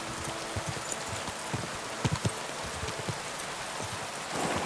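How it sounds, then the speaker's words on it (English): Rain falling in the medieval open-world game Kingdom Come: Deliverance 2, a constant patter with scattered louder drops and soft knocks, heard alone without talk. "And it's still raining."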